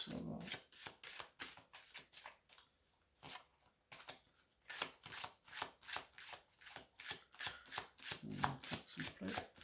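Cards are shuffled for a card reading in a quiet room, a run of crisp riffling bursts in quick rhythm, close and fairly soft, pausing briefly midway before resuming, with no talking.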